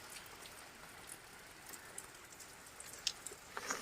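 Rain falling outdoors at a home, a faint, even patter with occasional sharper drops toward the end and no voices.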